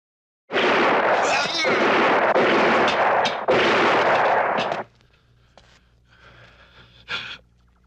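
Several loud, sustained bursts of gunfire close by in a Filipino action film, lasting a few seconds, then quieter shuffling and a short sharp sound near the end.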